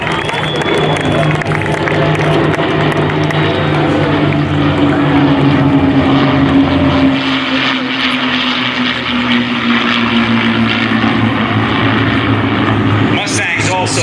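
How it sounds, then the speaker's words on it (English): P-51 Mustang WWII fighter aircraft fly over in a formation flyover, a loud steady propeller-engine drone sweeping past with a slowly falling pitch, filling the whole stretch. "Here come the Mustangs."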